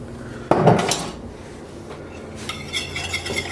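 A spoon stirs garlic powder and cumin into a dish, opening with a sharp clank against the pot followed by scraping and light metallic taps, close by and without talk.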